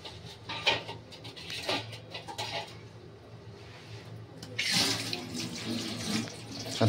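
Lentils (dal) rinsed under a running kitchen tap, steady water streaming and splashing close by with a brief stronger gush near the end, with no talking.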